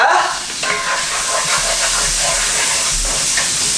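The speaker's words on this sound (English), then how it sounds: "So now we got that sizzling or whatever." Purple onion sizzles and hisses steadily in a frying pan while being stirred, with soft scraping movement over a continuous, close frying noise.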